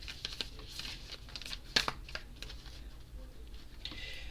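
Soft papery riffling and crinkling of tarot cards being shuffled, close and quiet, with one sharper snap partway through.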